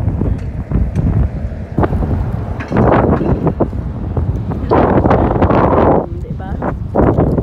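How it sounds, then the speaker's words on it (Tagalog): Strong wind buffets the microphone during a city walk in Gothenburg, Sweden, loud rumbling gusts that rise and fall in uneven bursts, close and dominant throughout. "Diba kusog ang hangin pero nice ka yung weather."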